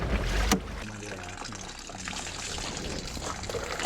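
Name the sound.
water draining out of truck through drain holes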